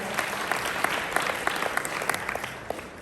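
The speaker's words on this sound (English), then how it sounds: "Give them a big round of applause, please, guys" A crowd at a Saturday chamber event gives a big round of applause for new team members: dense, steady clapping with scattered sharper claps, fairly close, continuing throughout with no talk.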